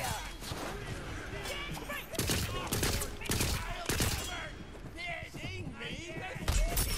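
Gunfire in Tiny Tina's Wonderlands, rapid loud volleys of shots and impacts with bursts at irregular intervals, mixed with game voices and a busy combat soundscape.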